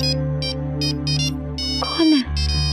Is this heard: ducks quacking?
no